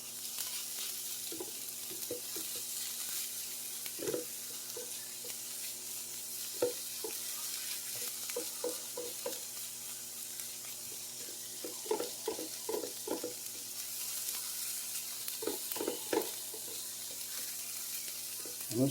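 Mushrooms and pickled peppers cooking down in a pan, giving a steady broad sizzle with scattered soft clicks and taps from stirring throughout; no talking.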